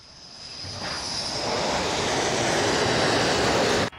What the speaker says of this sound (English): The jets are coming back to Kuznetsov from the mission.